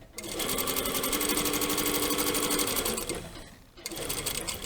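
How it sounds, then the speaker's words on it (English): A sewing machine stitches a double welt pocket in a loud, fast, continuous run, pauses briefly, then starts up again for a shorter burst. "we're sewing in the centre, so there's going to be a tiny bit of fabric on both sides there as we sew down"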